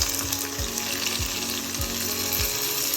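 Three sliced onions frying in oil in a pan for a chicken and green peas gravy, a steady close sizzle with soft regular thumps of stirring.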